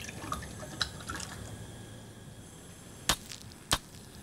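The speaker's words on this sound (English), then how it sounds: "It has cracked the test tube." A hard glass test tube cracks during lime water suckback after heating carbonate in a chemistry experiment, heard as two sharp, brief snaps near the end, with faint ticks earlier over a quiet background.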